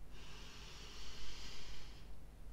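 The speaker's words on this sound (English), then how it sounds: "Take a deep breath in through your nose." A single long, steady breath drawn in through the nose, hissing evenly for about two seconds, close and moderately loud against quiet background hum.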